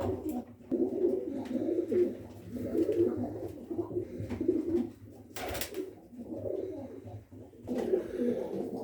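Pigeons in a loft cooing in repeated soft, throaty phrases, close and fairly quiet, with a short rustle of wings or movement in the middle and no talking.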